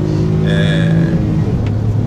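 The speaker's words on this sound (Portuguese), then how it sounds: "ele faz muito barulho, vocês vão ver aí uma aceleração de 0 a 100" A 2016 Hyundai HB20 accelerates from 0 to 100, its engine droning loud and close with a steady low rumble and a rising whine as it pulls through the revs, no voices over it.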